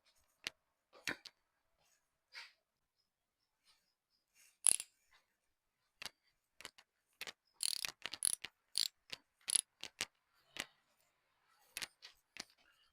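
Wrench loosening a 17 mm bolt on a Kubota tractor's 3-point hitch lift arm: scattered sharp metallic clicks and ratcheting bursts, close and fairly quiet, with pauses between, busiest in the middle stretch.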